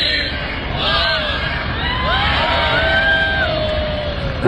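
Right after a countdown at a Christmas tree lighting, a crowd yells and whoops with rising whistled cries, a dense, sustained roar of voices at moderate distance.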